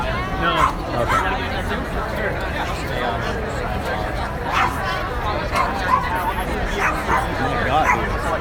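A dog barks and yips repeatedly at an outdoor protest march against offshore oil drilling, sharp calls rising over a steady crowd babble and chatter, with people talking nearby throughout.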